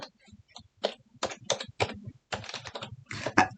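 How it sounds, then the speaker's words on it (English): Fingers type an Excel formula on a computer keyboard, producing quick, close clusters of key clicks in irregular bursts with short pauses between them. "by typing equals binom"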